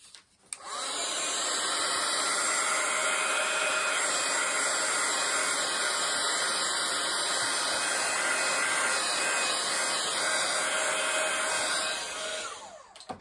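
A hair dryer runs steadily and loud for over twelve seconds, drying a beginner's autumn watercolor painting, switching on at the start and cutting off near the end with no talk.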